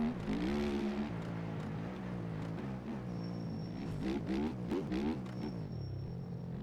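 A factory dirt bike engine in the MX Bikes video game revs and winds through repeated rising and falling pitch sweeps, buzzing and fairly loud, with no talking.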